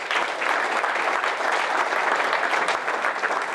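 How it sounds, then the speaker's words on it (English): An audience at a leadership summit gives a round of applause: dense, steady clapping from many hands, sustained evenly at close range with no voices standing out. "let's have a round of applause for these guys"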